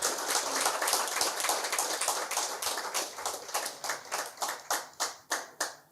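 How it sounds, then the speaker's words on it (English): An audience at a Nakuru debate claps for Fanya Mambo, a rhythmic burst of many hands that starts dense and settles into slower, evenly spaced group claps. "So guys, you can clap for Fanya Mambo slightly more."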